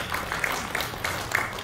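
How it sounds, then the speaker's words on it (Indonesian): A church congregation at a Sunday service claps briefly, a light patter of applause from a moderate-sized crowd in a reverberant hall, lasting under two seconds. "Tepuk tangan untuk Tuhan Yesus."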